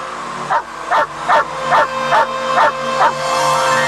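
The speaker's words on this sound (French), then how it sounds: "Arrêtez d'aboyer, maintenant ça suffit." Dogs in an animated French adventure series bark in a steady rhythm, about eight evenly spaced loud barks over a constant background hum.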